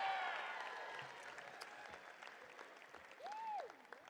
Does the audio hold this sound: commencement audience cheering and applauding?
yes